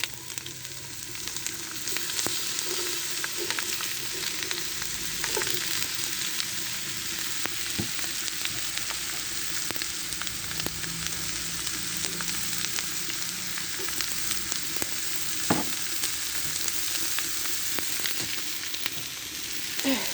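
Bitter gourd and potato frying with chopped onion and garlic in a pan, a continuous close sizzle with scattered crackles and occasional stirring clinks, steady throughout with no talking.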